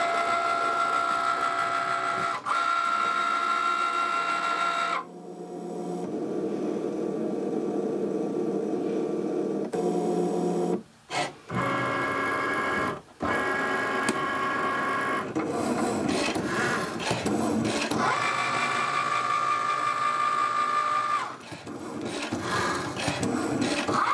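A Cricut cutting machine slicing shapes from cardboard on a mat, a steady whirring, rasping motor with repeated shifts in pitch as the carriage moves, broken by a few brief pauses, close and without talk.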